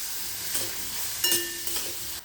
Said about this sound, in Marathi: कांदा चांगला लाल भाजत आला आहे